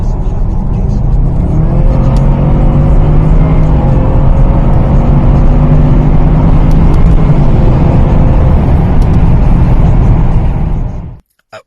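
A Jaguar XFR with a tuned ZF8 eight-speed automatic gearbox pulls hard from inside the cabin, its engine droning loud and steady while the pitch climbs and steps through gear changes before cutting off abruptly.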